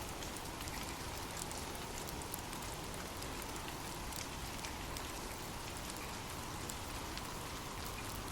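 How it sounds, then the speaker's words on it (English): Steady, even rain pours down without a break, a dense hiss of drops on surfaces with no voices or other sounds. "Sweet dreams, and drift off to sleep with rain."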